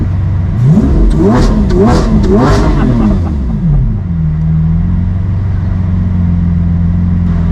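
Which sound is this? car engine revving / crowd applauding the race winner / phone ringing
car engine revving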